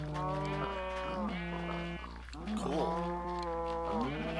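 Sheep in a Minecraft-style farming game with a new texture pack bleat several times in quick succession, loud and close, with overlapping calls and a low hum beneath.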